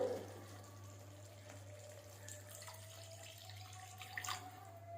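A little water is poured into a spiced curry pan, giving a faint, steady splashing run over a low hum, with no talking.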